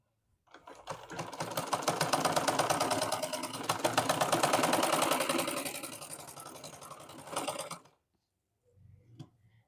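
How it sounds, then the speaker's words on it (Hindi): A sewing machine stitching a double seam rattles loudly and continuously with a fast, even mechanical clatter for about seven seconds, then stops; a brief faint knock follows near the end. "तो मशीन बहुत ज़्यादा खड़खड़ा रही है, पता नहीं क्या हुआ।"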